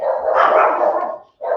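A small dog barks continuously and loudly close by, a dense run of yapping that breaks off briefly before starting again.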